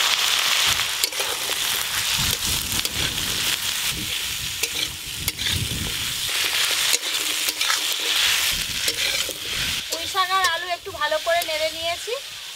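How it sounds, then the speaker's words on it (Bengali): Malabar spinach and potatoes fry in a pan with a steady, close sizzle and intermittent stirring scrapes, while a voice and a melodic tune come in near the end. "এবার কেটে ধুয়ে রাখা পুঁই শাক আর আলু দিয়ে দেব।"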